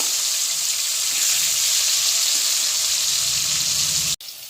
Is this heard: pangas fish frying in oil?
yes